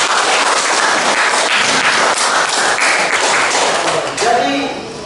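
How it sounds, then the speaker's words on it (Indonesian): A classroom audience applauding for a student: dense, close, continuous clapping from many hands throughout, tapering off at the end as a voice begins speaking. "Ya, tepuk tangan dulu buat si Vivi."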